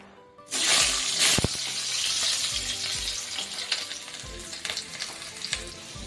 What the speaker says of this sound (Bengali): দেখে নিন, আমরা কড়াইতে একটু তেলটাকে গরম করে নিয়েছি। এবার আমরা আলুগুলোকে একটু ভেজে নেব।